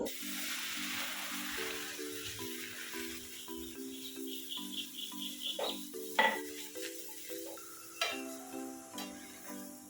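Semolina stirred and fried in a pan with a soft sizzle, while a utensil scrapes and clinks repeatedly against the metal through the whole stretch, close and at moderate volume.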